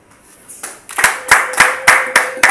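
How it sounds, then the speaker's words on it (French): At a book launch, a small gathering claps in unison, slow rhythmic beats building from a few scattered hands into a steady, evenly spaced clap, close and fairly loud. "On applaudit encore très fort quand même."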